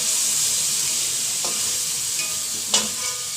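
Fish frying in hot oil gives a steady, loud sizzle with a couple of brief spatula scrapes or pops near the end.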